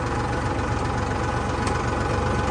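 A tractor engine idles steadily and close by, a continuous low diesel rumble with a slight knocking pulse, and no voices over it.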